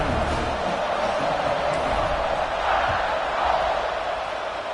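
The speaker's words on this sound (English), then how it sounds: "this crowd is buzzing after that last score" A stadium crowd in the College Football 26 video game keeps up a steady buzzing roar, loud and continuous, just after a score.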